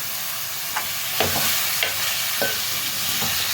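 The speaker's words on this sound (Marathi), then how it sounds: "आता आपण हे शिजवून घेतलेलं मटण टाकूया." Cooked mutton is tipped into green chilli masala for kharda mutton, a close frying sizzle broken by several scraping stirs of the spatula, with no talking.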